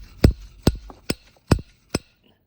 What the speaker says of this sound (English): It's kind of like a slide hammer to drive this lower bushing off